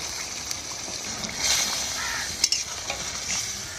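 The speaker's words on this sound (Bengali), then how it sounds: "একটু জল দেবো, হালকা করে জল দেবো" Water poured into a frying Bengali prawn curry (chingri jhal) in a home kitchen, a steady hiss and sizzle with a swell of bubbling and a couple of sharp clinks, close and moderately loud, no talk.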